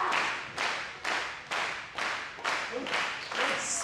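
Fans at a Pro Wrestling NOAH match clap in unison, producing loud, even crowd claps about twice per second that echo through the arena and keep a steady rhythm throughout.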